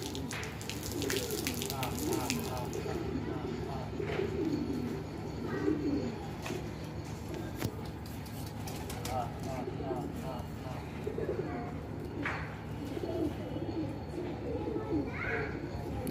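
Pigeons on a rooftop coo softly and repeatedly over a steady background of outdoor noise, with occasional chirps and people talking nearby.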